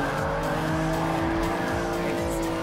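A Greddy Fugu Z race car in Gran Turismo Sport roars at high revs with squealing tires, a dense continuous engine whine layered with skidding, loud and close throughout.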